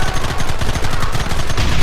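Gunfire in Red Dead Redemption: dense, rapid shots from several guns overlap into a loud, close, continuous volley with a brief dip partway through.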